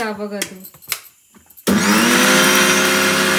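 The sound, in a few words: mixer grinder grinding cumin, salt and garlic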